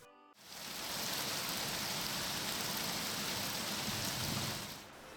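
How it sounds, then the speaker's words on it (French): Hail from a storm pelting down during a mountain descent on the GR10 trail in the Pyrenees: a steady, dense hiss of stones striking surfaces, swelling quickly and holding constant for several seconds before easing off. "Des orages de grêle se succèdent tout au long de cette infernale descente"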